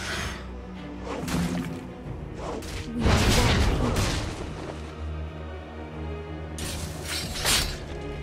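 Crashing, shattering blasts as a turret is destroyed in League of Legends, a loud burst of debris and booms with whooshing impacts before and after.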